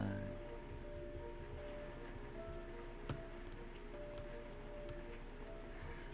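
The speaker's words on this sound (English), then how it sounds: "y'all can probably hear the rain coming from outside." Heavy rain falling outside, heard from indoors as a steady, faint wash with scattered ticks of drops, continuous and even throughout the clip with no talk over it.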